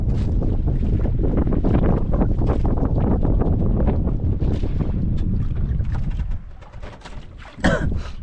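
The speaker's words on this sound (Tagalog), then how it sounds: "Grabe hangin" Strong wind roars and buffets the microphone continuously, with a rushing, blustery texture and a brief gusty flare near the end.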